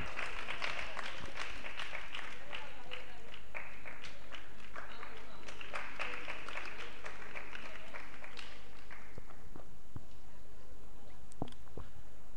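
An audience at a seminar gathering claps in welcome, a dense burst of many hands that fades to scattered claps toward the end, fairly close and without speech.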